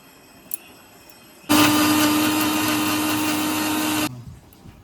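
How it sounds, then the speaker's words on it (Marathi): A kitchen mixer grinds coconut and garlic in a village kitchen in the Konkan region. It gives a loud, steady whirring roar for under three seconds and then stops abruptly, with quiet before and after. "हे मिक्सरला लावतले."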